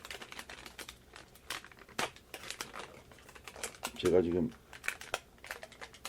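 Thin plastic wrapping on a COVID-19 self-test kit crinkles and tears in quick, close handling rustles, with someone speaking over it throughout.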